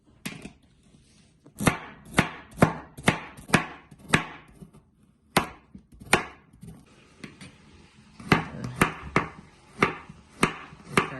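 Knife chopping onions into big chunks on a board, loud close thuds in quick bursts of several strokes with short pauses between them, no voices.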